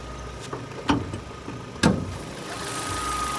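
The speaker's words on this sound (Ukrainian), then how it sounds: "Мотор працює ідеально." A 2010 Opel Astra H 1.6 petrol engine idles with a steady low rumble, interrupted by a couple of sharp knocks or clunks nearby.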